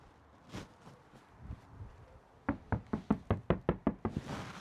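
Knocks on the sound-deadened side panel of a Toyota Hiace van, a quick run of about nine dull, damped raps close by, preceded by a few softer taps.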